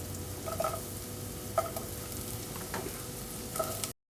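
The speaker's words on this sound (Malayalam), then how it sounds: "ആദ്യം നമുക്ക് ഈ തേങ്ങാക്കൊത്തിട്ടവനെ ഒന്ന് വറക്കണം." Coconut pieces frying in a pan for bread masala fry: a steady, quiet sizzle with a few light clinks of stirring, ending abruptly.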